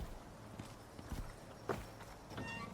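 A horse in the survival video game ICARUS clip-clops with a few soft, irregular hoof steps, faint and close, with scattered quiet thuds between them.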